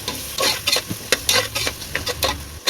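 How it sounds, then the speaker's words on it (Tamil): Tomato strips and onions sautéed in a pan for vegetable biryani, with steady sizzling and repeated scraping stirs of a spoon against the pan, close and fairly loud, no voices. "இப்போ அதையும் சேர்த்து நல்லா வதக்கிடுவோம்"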